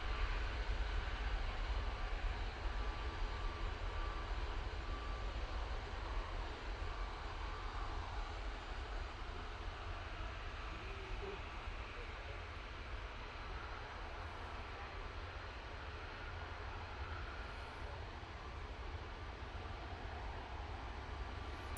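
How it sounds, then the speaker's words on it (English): Singapore Airlines Airbus A350-900 arriving at Manchester Airport after a long-haul flight from Singapore, its engines giving a steady, broad distant roar that holds evenly throughout with no voices. "So this is SQ302 coming in from Singapore. It's the A350-900 for Singapore Airlines"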